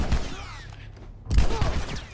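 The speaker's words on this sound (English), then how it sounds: "Protect yourself from gunfire." Gunfire crackles in a firefight in the video game The Last of Us, with a loud burst of shots, a brief lull, then another close, dense volley.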